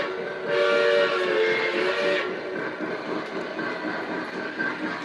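An MTH model steam train runs on its track with a steady mechanical rumble, and a whistle sounds clearly for about two seconds near the start before the running noise carries on alone.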